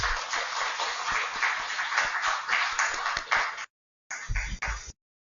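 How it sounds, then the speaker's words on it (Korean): Applause from a church congregation for an elderly father figure at a large Seoul worship service, a dense burst of clapping that runs several seconds, cuts out briefly, then returns in a short final flurry. "우리 아버님께 큰 박수 한번 부탁드리겠습니다"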